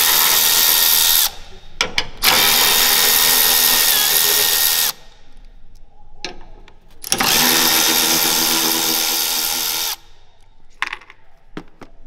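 Power tool driving out the fender screws on a VW Golf 8: two loud, sustained close-up whirring runs of several seconds each, with short blips and trigger taps in between.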